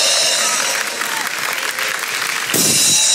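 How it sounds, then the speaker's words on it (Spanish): Sustained applause from an audience for the Peruvian Army band, steady dense clapping throughout that swells louder near the end. "Un aplauso para la gloriosa banda."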